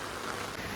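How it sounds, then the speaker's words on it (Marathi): Heavy rain pours outdoors near the Manivali river, a brief dense unbroken hiss close by, with no talking. "पण पाऊस खूप आहे"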